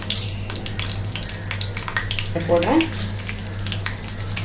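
Mustard seeds and urad dal frying in generous oil in a cast iron pan give a steady close crackle and sizzle, with a low hum beneath and a short burst of faint voice partway through.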